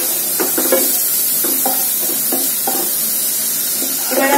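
Kalonji-spiced paste frying in a pan for a Bengali fish curry, with steady broadband sizzle and intermittent scraping stirs in short bursts, close and loud.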